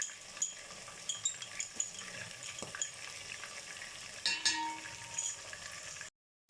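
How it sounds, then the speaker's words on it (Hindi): Chicken with garlic-ginger paste sizzles and fries in a pan at low volume, with occasional clinks and stirring scrapes, before cutting abruptly to silence. "इसको अच्छे से मिक्स कर लेंगे और इसको कलर चेंज होने तक इसकी भुनाई करेंगे"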